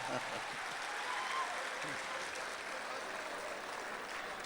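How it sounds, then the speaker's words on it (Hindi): Audience applause at a Republic Day poetry gathering (kavi sammelan and mushaira) in Dubai: steady clapping from a crowd that runs unbroken throughout, fairly even in loudness, with no clear speech over it. "मस्त लोग एक बार जोरदार तालियां बजाएं।"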